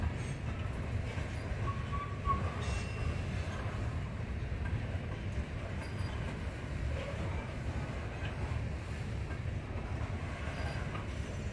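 A long Norfolk Southern freight train rolls along the railroad, a steady low rumble of wheels and cars continuing evenly from a moderate distance, with faint occasional squeaks and no talk.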